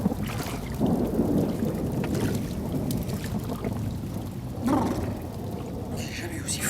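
Heavy rain falls steadily under rolling thunder, a constant low rumble and wash with louder surges partway through, all close and dense, with no voices over it.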